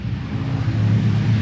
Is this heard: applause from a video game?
no